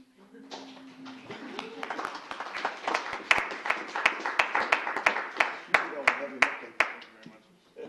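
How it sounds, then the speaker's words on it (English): A council meeting audience breaks into clapping and cheering, scattered claps building into steady, sharp applause across the room, with voices talking throughout. "Okay, now this is the time to cheer."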